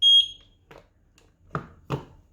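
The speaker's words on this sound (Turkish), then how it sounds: "Pip sesini duydunuz mu diyor" A single short, high-pitched electronic beep from a camera during setup, followed by a few faint clicks and taps of handling nearby.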